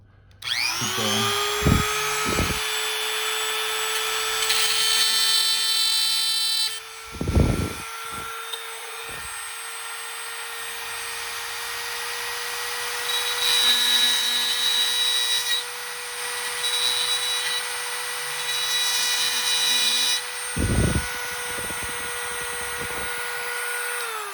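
Rotary tool bit grinding on an Apple Watch Series 5 44mm screen during a screen replacement: a high, steady whine that spins up and runs continuously, broken by a few sharp clicks and scraping bursts, close and loud.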